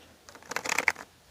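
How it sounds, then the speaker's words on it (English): Tarot cards are shuffled in a quick, soft riffling burst of papery flutters that rises and fades within about a second, close and fairly quiet with no talking. "If you're not a big fan of the shuffling, you can go ahead and fast forward where you see the cards laid out."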